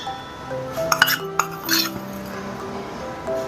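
A spoon scooping oats clinks against a bowl a few times in quick succession, close and bright, with a faint background hum and no talking.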